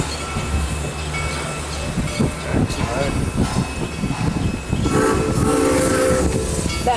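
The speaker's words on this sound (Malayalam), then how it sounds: "This train, do you see that train?" A train passes nearby with loud rumbling and clattering wheels, then a sustained horn blast near the end, while voices are heard over it.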